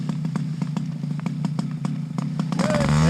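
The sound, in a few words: engine running after pumping the gas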